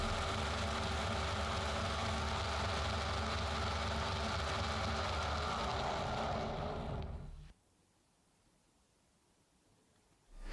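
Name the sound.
drilling a clock gear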